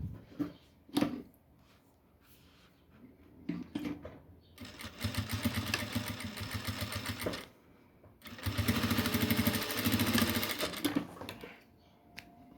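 A sewing machine stitches the lining of a school pencil case in two sustained runs of rapid, even mechanical whirring and clatter, separated by a pause with light handling noises.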